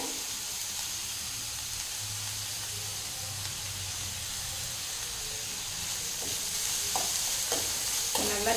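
Onions, green chillies, ginger and curry leaves sauté in a pan for aval kozhukattai with a soft, steady sizzle, and spoon-stirring scrapes grow louder toward the end.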